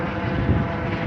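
Grand Canyon tour helicopter flying overhead near Willow Beach on the Colorado River, a brief steady droning rotor and engine rumble at moderate loudness with no talking.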